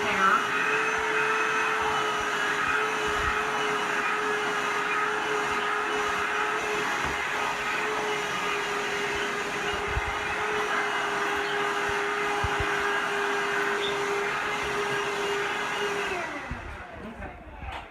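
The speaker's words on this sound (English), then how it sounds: "I can take a vacuum and get rid of all this excess hair." Vacuum cleaner sucking up shaved hair during surgical prep, a steady loud whining drone that runs unbroken for about sixteen seconds before switching off, close by.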